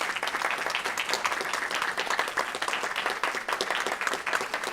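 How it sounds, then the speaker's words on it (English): Audience applauding a school board receiving an award at a public school board meeting, steady dense clapping throughout, moderately loud and without talk. "Will everyone please give this fine board a round of applause for their accomplishments?"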